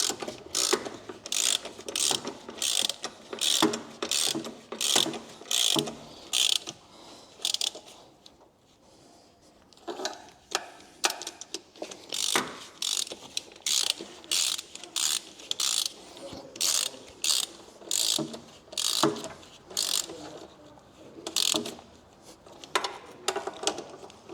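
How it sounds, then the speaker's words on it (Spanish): A ratchet with a 12 mm socket clicks in rapid, even bursts while tightening the cylinder head bolts on a Yamaha NMAX 125 scooter, close and crisp. The strokes are repeated in runs separated by short pauses. "Los de la culata iban con un vaso de 12, así que nos ponemos aquí y apretamos."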